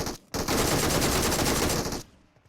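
A loud, sustained burst of rapid automatic MG3 gunfire in PUBG Mobile lasting under two seconds, dense and continuous, followed by quiet.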